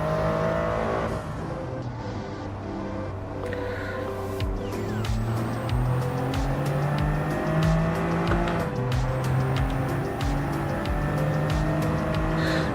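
A Toyota GR Cup car laps the Red Bull Ring in a racing game, its engine droning loudly and continuously, revs rising and falling through gear changes with occasional tire squeal.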